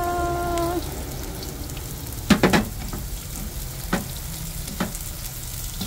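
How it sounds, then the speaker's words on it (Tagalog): Onion rings going into a pan of browned garlic and oil, with a brief hum at the start, then a burst of crackling and steady frying sizzle with a few light clatters. "Ready na po ilagay ang ating mga ring onions."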